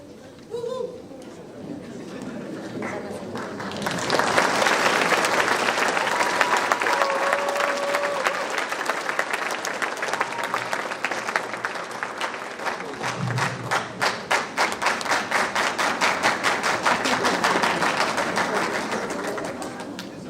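Audience at a high school graduation ceremony clapping, swelling from scattered claps into sustained, dense applause that continues steadily before thinning slightly, heard from within a large hall.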